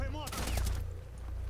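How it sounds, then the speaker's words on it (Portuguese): Gunfire in Rainbow Six Siege: a short, dense burst of shots over steady low background rumble and game noise, with a brief voice at the start. "O Nico tá levando tiro lá"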